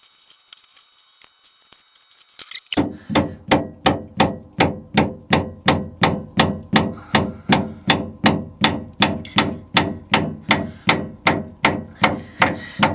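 Stern gland packing rings hammered into a boat's shaft gland, a steady series of about thirty evenly spaced sharp knocks, close and loud, following a quiet lead-in.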